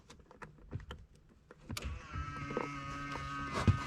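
Power folding side mirrors on a GTR motor with a steady electric whir after a few faint clicks and taps, recorded close and fairly quiet.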